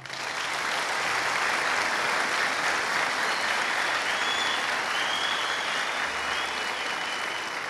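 A large audience applauds for a young woman at a church testimony gathering, producing dense, sustained clapping that stays loud and even throughout with no voices.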